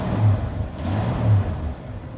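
A 1982 Ford F150 with a stock-exhaust 4.9-liter inline-six, not yet fully warm, gives a few short revs. Its low, rumbling engine note swells and eases twice over a steady idle.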